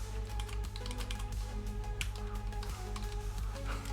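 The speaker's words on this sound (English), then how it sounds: "Oh, why am I typing that?" Rapid tapping on a computer keyboard continues steadily under a loud, constant hum, the individual keystrokes faint and close.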